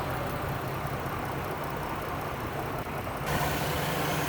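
A 2011 Dodge Caravan wheelchair van with a 3.6 V6 idles smoothly, a steady low engine hum with an even, unchanging drone and no other sounds over it.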